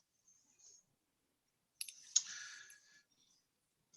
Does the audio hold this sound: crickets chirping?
no